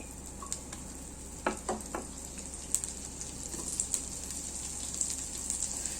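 Broccoli hitting a pan of hot oil and butter gives a steady, close sizzle, with a few sharp stirring clatters and tossing knocks across the stretch. No voices are heard.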